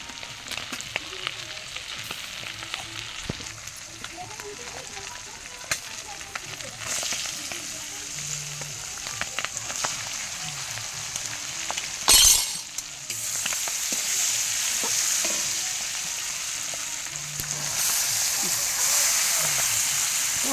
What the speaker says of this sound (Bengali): দেখুন ভাজা হচ্ছে